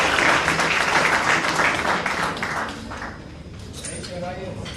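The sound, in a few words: audience applause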